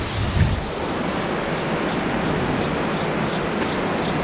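A river flows below in a mountain valley in Tawang district, heard as a broad steady rushing roar mixed with wind, with no voices.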